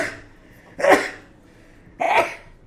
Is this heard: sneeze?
yes